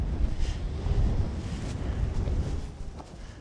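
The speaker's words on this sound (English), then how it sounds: "it's just pretty light winds at like 10 miles an hour" Light wind of about 10 mph buffets the microphone on a Rocky Mountain National Park trail, a steady low rumble with soft gusty swells that eases slightly toward the end.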